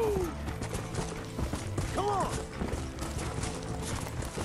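Horse hooves clip-clop steadily in the Red Dead Redemption video game in Mexico, mid-loud under continuous game noise, with a brief whinny-like tone and someone talking over it.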